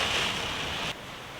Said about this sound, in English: I want to be here by the rain. I love it pounding on the window.